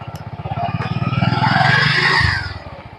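A motorcycle engine putters in rapid, even pulses close by, swelling into a rising rev as the bike sets off, then easing away.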